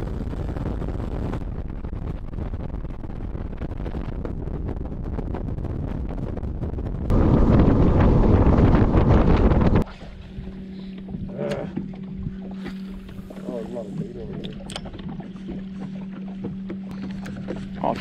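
Boat motoring across Pyramid Lake in strong wind, with steady engine drone and heavy wind buffeting throughout, a louder burst of wind and spray midway, then a calmer stretch with a clear steady engine hum.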